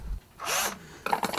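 Small hand drill chamfering the edge of a clock part at a workbench: a brief whirring burst of tool noise, then a second rougher stretch of grinding and rubbing, close and fairly quiet.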